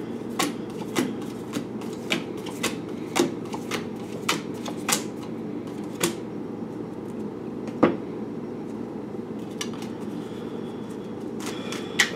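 Tarot cards being side-shuffled by hand, a run of soft, crisp riffling clicks and taps at a steady uneven rhythm, close and fairly quiet over a low room hum, with no talking.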